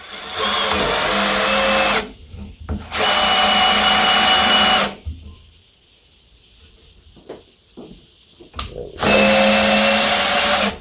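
A power drill bores holes in wooden boards for a dog house, whining loudly in three long bursts separated by quieter stretches of handling noise.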